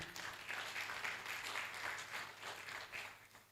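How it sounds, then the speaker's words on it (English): Faint, distant audience applause at a live awards-style show, a steady wash of clapping with gentle swells throughout. "Please, a round of applause to them."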